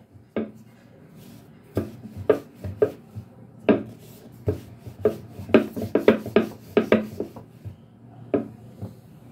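Thin flour dough for khaja being rolled out with a wooden rolling pin on a floured surface: irregular soft knocks and scraping rubs, close and fairly loud, with quiet gaps between strokes.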